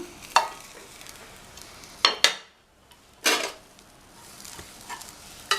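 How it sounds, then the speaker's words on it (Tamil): Cooked rice stirred into a spiced mixture in a pan with a spoon, giving a few distinct scrapes and clatters over a faint background sizzle, close by. "இப்போது வடித்து வச்ச சாதத்தை இதோடு சேர்த்து கிண்டிக்கலாம்"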